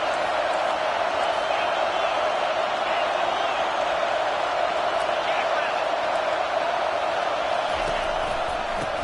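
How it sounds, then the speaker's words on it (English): Football stadium crowd at an NCAA college game roaring steadily and swelling in volume on second down, a continuous dense wall of cheering with a broadcast announcer's voice faintly underneath. "this crowd is turning it up a notch."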